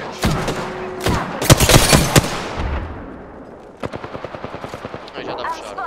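Rapid bursts of gunfire in Apex Legends with sharp automatic rattles and single loud shots, followed by a quicker steady volley, all close and loud.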